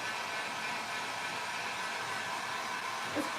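A hair dryer blows on a painted thrift-store item, a steady, even whooshing roar at moderate distance that holds constant throughout with no talk.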